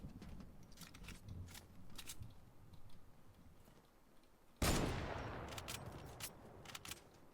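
Gunshots in Fortnite OG: faint, sporadic clicky shots and ticks over a low game bed, then a sudden loud blast followed by a burst of rapid fire that slowly decays.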